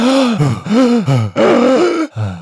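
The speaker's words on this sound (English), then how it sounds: "Maybe remix his breathing." A man breathes heavily and loudly, with repeated drawn-out, groaning exhales and sharp intakes in an uneven rhythm. The sound is close to the microphone and no speech is heard.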